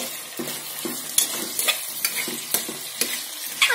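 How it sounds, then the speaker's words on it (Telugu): Mint and coriander being stirred into a vegetable biryani in a pan, giving repeated scraping stirs over a steady low sizzle, close and fairly loud, with no talking. "పుదీనా కొత్తిమీర వేసుకోవాలండి, కలుపుకోవాలండి"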